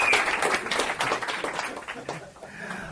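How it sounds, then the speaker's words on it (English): Audience applause for the AV staff at a talk. Dense, scattered hand claps ring out loud at first and gradually thin and fade, with voices mixed in beneath them. "let's give them a round of applause"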